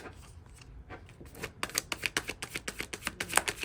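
Playing cards are handled and riffled from a deck close up, starting with soft sliding and rustling and then turning into a fast, even run of crisp flicks as the cards fall.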